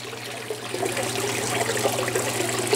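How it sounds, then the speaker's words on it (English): Water drips and splashes down a moss wall inside an aquarium, a continuous trickle with scattered light spatters, soft and close, with a faint low hum beneath. "you can kind of see all the little drips and splashes coming over here"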